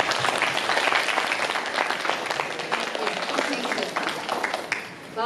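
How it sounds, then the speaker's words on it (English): An audience at a San Jacinto River Coalition meeting applauds a woman named Jackie, with dense, steady clapping from many hands holding close and loud throughout, then thinning slightly near the end. "I'm going to ask for a round of applause for this wonderful woman"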